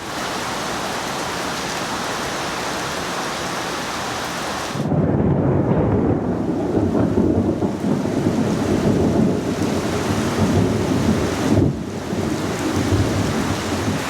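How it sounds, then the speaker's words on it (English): Steady rain hiss gives way to a loud, rolling thunderclap that rumbles on for several seconds, then a second roll, close and heavy, in a storm in Kuching, Malaysia. "That is the loudest thunder I have ever heard."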